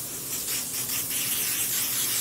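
A spray paint can of green paint hisses steadily and close up onto the back of a sock blank, a continuous airy spray with slight pulsing for a couple of seconds.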